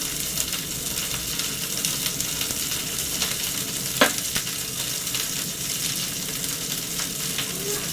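Grated ginger with cumin and coriander powder fries in a pan, giving a steady close sizzle with occasional stirring scrapes and one brief clatter midway.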